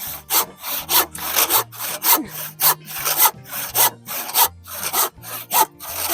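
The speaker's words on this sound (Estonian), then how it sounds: "Käib praegu tugistuste saagimine." A hand saw cuts through wooden supports for a wall frame in steady back-and-forth strokes, about a dozen loud rasping pulls in a regular rhythm, close by and with no voices.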